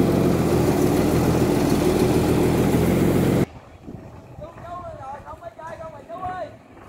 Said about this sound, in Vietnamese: Đây chiếc ghe thứ nhất tới nha các bạn.